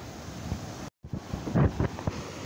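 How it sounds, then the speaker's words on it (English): A south wind blows across a beach where seaweed-laden surf washes in, giving low rumbling gusts and breaking water nearby, broken by a brief dropout before louder buffets return. "we're getting a little south wind, so it could become a problem"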